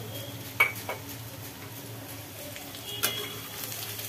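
Drumstick vegetable and potato pieces fry with poppy seed paste in a pan, stirred so a utensil gives a few faint clinks over a soft, steady sizzle.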